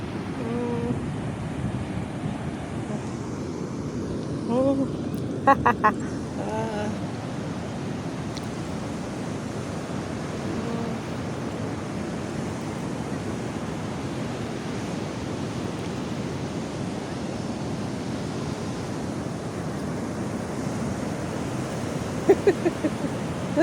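Ocean surf rolls and rushes continuously with wind noise buffeting the microphone, and a few brief knocks in between.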